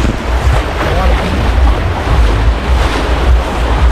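Black Sea surf breaking on a beach in Bulgaria, a loud, continuous roar of waves with heavy low rumble and wind buffeting the microphone throughout.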